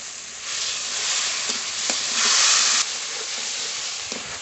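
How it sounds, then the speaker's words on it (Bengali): A masala of spice paste with turmeric, salt and water fries and is stirred in a pan for rui fish kalia. A loud hissing sizzle swells midway as the water hits the hot oil, with occasional scraping taps from the spatula. "হলুদ গুঁড়ো দেবো জল দিয়ে ভালো করে মশলাটা কষিয়ে নেব"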